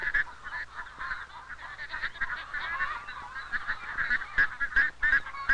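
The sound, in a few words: pet duck at poultry exhibit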